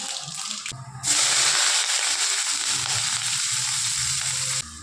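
Loud, steady sizzling of mustard seeds and small onions frying in hot oil, a continuous crackling hiss that starts abruptly and runs almost to the end.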